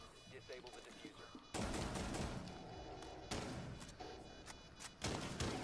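Video game gunfire in heavy, booming bursts, several loud blasts with short gaps between them over a busy background, with voices speaking in places.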